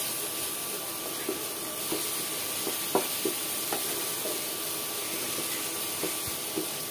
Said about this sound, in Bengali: এখন আমি মশলাগুলোকে নেড়ে ছেড়ে কষিয়ে নেব।